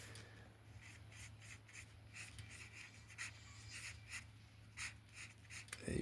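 A pencil drawing on paper makes quiet, steady scratchy strokes in short repeated bursts over a low constant hum.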